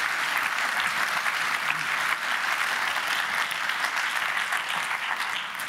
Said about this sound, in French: Ils ont peut-être déjà droit à une petite salve d'applaudissements à ce stade de la discussion.